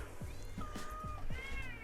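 An old male cat at an animal shelter in Lviv, Ukraine, meows repeatedly and close by, with several drawn-out cries in a row and no talking over them.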